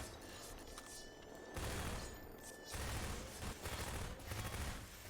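Automatic weapon fire rattles in Half-Life 2 in loud bursts with brief pauses between them, set against a steady background hum of game noise.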